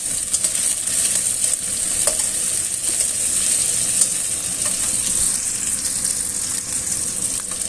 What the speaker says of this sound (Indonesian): Di sini terlebih dahulu kita masukkan bawang merah dan bawang putihnya